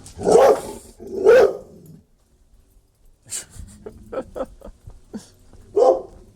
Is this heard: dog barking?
yes